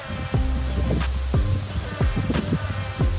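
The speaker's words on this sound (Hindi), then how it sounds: "बारिश हो रहा है ऑब्वियसली" Rain falls at a tropical island resort with coconut palms, a steady wash of drops under a low hum, punctuated every half second or so by sharp, close thuds.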